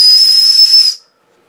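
A small whistle packed with a Zanflare F6 200-lumen flashlight blows a steady, shrill, airy tone for about a second, loud and close, then cuts off abruptly into silence.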